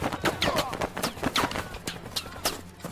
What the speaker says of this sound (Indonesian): Baku tembak pun terus berlangsung